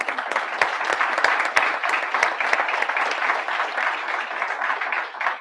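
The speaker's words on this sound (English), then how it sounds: "So please give him a warm applause." Audience applause at a board of education public session, steady dense clapping from a crowd throughout, loud and close with no talking over it.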